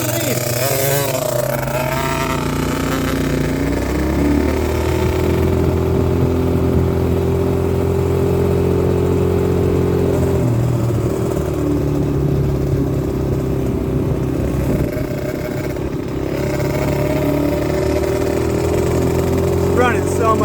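SYX Moto 50cc motorcycle with a dirty carburetor and bad air filter, its small engine running steadily and revving up and down close by, with a voice speaking over it.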